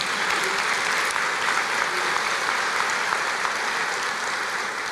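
A church congregation applauds during a sermon, a continuous, even roar of many hands clapping at moderate distance for several seconds, with no voices.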